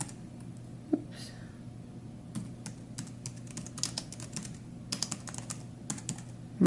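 Keystrokes on a Nulaxy wireless Bluetooth keyboard, a run of quick, close clicking taps in irregular bursts, with a faint voice murmuring in the background.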